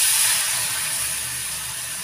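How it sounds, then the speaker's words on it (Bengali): Hot water poured into tangra fish curry boils up in a loud, close, steady hiss of steam that fades slightly over two seconds. "গরম জল দেওয়ার সাথে সাথে এরকম তরকারিটা ফুটে গেল"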